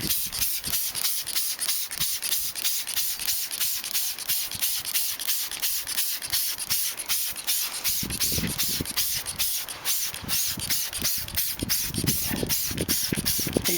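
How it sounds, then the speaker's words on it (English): Pro-Kleen Troll's Breath cleaner sprayed liberally onto worn winter car wheels, a close, steady run of rapid hissing trigger bursts in quick rhythm with no voices. "Spray on liberally."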